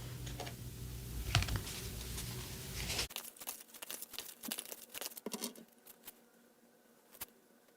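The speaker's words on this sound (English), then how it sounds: "So I'm going to shuffle some more oracles, some animal spirit oracles and green witch oracle." Oracle cards, including animal spirit and green witch decks, shuffled by hand close up in a quiet room: a run of soft riffling, then irregular taps and flicks that thin out to a few isolated clicks.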